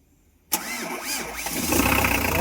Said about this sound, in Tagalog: Tignan nyo ang paglagapak sang makina o pagka pinandar natin oh.